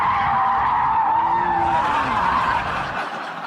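Porsche 911 Turbo (2002) spinning out, tires skidding in a loud sustained squeal with a wavering pitch and engine drone beneath, fading slightly at the end.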